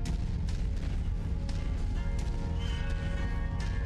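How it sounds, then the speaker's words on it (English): Artillery fire in the mech combat game Mechwarrior 5 Mercenaries, a rolling series of heavy booms and blasts layered over a constant dense rumble of battle, loud and close with no speech. "I like the artillery idea, I just think they overdid it."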